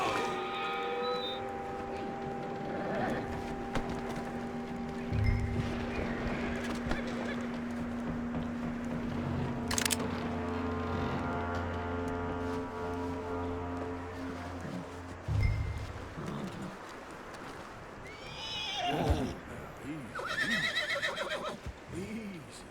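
In Red Dead Redemption 2, a horse whinnies loudly, then snorts, with hooves clopping and synthesized game-style music and effects layered throughout.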